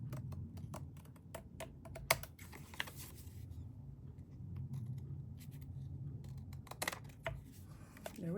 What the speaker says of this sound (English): using my long scissors, I'm gonna just trim it to size.